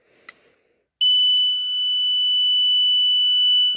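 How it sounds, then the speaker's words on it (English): A Chubb On Guard Pro burglar alarm's solid piezo sounder starts abruptly after a faint tap, then holds a loud, piercing steady tone without a break until the end. "Okay, the alarm two goes off."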